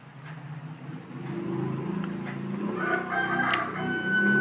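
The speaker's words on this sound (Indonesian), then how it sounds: "ini banyak suara masuk, ada suara ayam, suara motor" A rooster crows in a long drawn-out call from a short distance, rising over a steady murmur of passing motorbike traffic, with no talking.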